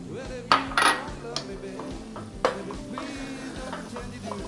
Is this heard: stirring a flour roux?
yes